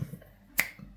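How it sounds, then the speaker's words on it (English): A single sharp finger snap, close and crisp, stands out against a quiet room with faint low murmur beforehand. "snapping my fingers and I'll have edited it"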